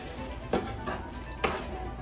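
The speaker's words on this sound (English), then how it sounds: "This is still simmering." Vongole pasta sauce simmering in a pan, a faint steady sizzle and bubbling with two soft clinks of a utensil against the pan.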